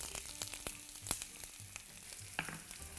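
Strips of onion frying in hot olive oil, a soft steady sizzle with scattered crackles and light clicks, fairly quiet and with no talking.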